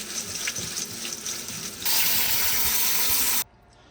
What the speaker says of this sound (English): We're going to clean our beans real good.